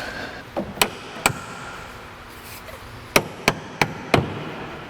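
Sharp hammer blows on a cotter pin while installing frame connectors on a Ford Fox Body car ring out in two bursts: a few scattered strikes, a pause, then four quick evenly spaced hits, fairly close over low background noise.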